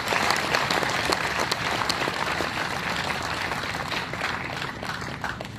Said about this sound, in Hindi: थोड़ा जोरदार तालियां बजाकर उनका अभिनंदन